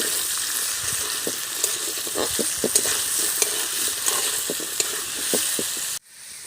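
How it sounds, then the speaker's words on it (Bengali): Potato pieces frying in hot oil, seasoned with salt and turmeric, give a steady, close sizzle with occasional stirring clicks, then cut off abruptly near the end. "আলুগুলো আমি হালকা লাল লাল করে ভেজে নেব।"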